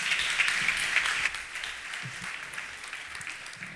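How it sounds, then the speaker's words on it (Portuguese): Audience applause at a national professional meeting in Portugal, a steady wash of clapping from a crowd that is loudest at first and then eases slightly while continuing to the end. "uma salva de palmas"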